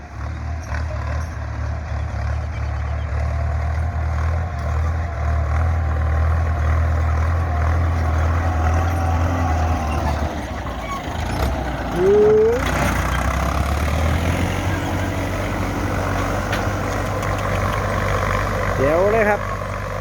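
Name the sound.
Ford tractor reversing a long way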